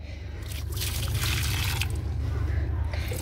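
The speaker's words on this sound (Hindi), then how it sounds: "मम्मा प्लांट्स को पानी लगा रही है," Water splashes and trickles steadily onto potted plants outdoors, close and continuous, growing slightly louder after the first moment.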